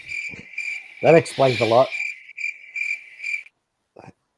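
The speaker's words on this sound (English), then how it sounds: "Crickets. Sounds real good, don't it?" Crickets chirp in a steady pulsing trill, used as a sound effect on a comedy Christmas show, with a voice speaking briefly over it partway through before the chirping fades out.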